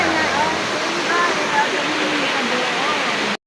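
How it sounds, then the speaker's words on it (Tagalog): Water gushes strongly at Kalabato hot spring in Leyte, a loud, steady roaring rush heard close up that holds evenly for a few seconds before cutting off abruptly. "lakas ng lalabas ng tubig"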